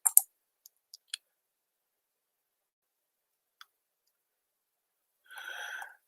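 Computer mouse clicks, a few sharp isolated ticks spaced apart in near silence, close and faint, followed by a brief soft rustle.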